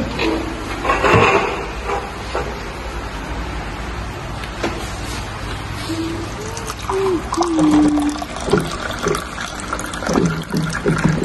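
Water being poured or filled, gurgling and splashing in uneven bursts amid background chatter and a voice, with people talking nearby.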